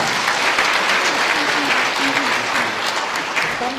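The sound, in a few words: audience applause at cooperative day ceremony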